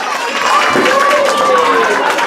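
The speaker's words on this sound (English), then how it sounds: "Give my volunteers a big round of applause." A crowd at a comedy magic show claps and cheers steadily and loudly throughout, a continuous wash of applause with scattered voices and whoops riding on top.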